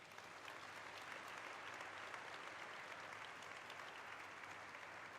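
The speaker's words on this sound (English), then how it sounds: "A big round of applause for all of them." Continuous, dense applause from a large crowd at a stock market listing celebration, an even wash of clapping at a constant level, distant and fairly quiet.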